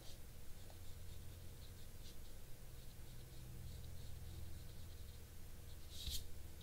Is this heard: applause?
no